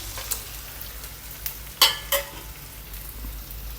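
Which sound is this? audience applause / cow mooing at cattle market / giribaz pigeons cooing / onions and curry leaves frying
onions and curry leaves frying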